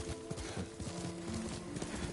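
Rhythmic clip-clop of a horse's hooves at a steady riding gait in the Ghost of Tsushima video game, loud and close, with game music and ambience layered underneath.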